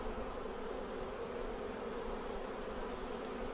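Honey bees buzz steadily and densely around a beehive frame, a continuous close-up swarm drone with no talking over it.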